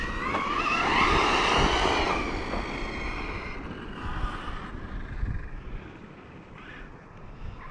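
A Team Corally Kagama 6s RC car runs and brakes on dirt, a loud whining motor and scrubbing tires rising then fading as the car slows and moves away.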